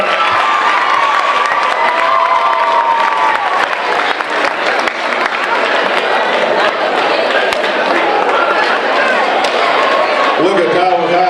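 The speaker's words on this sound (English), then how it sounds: "Clap it up, clap it up, clap it up." Crowd at a high school Black History program claps and cheers loudly throughout, a dense sustained roar of applause and shouting with a voice calling out over it.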